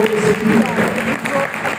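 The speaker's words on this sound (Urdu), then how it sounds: "زوردار تالیاں" A church congregation bursts into loud applause during a sermon, with dense, close clapping and a voice running over it for a brief moment.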